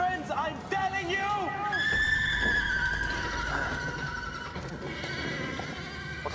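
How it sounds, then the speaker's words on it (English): Horses whinny and neigh loudly in a tense scene, drawn-out cries over a rumbling low bed with stamping hooves, while people talk over them. "What's wrong with those horses?"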